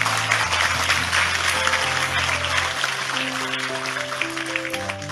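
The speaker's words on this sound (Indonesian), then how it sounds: "Sekali lagi tepuk tangan lebih keras untuk Tejo." Audience applause at a religious gathering, clapping spread across the crowd over sustained musical tones, continuing steadily for a few seconds.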